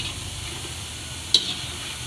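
Gulab jamun fry in hot oil, a steady moderate bubbling sizzle with a single sharp clink partway through, no one speaking.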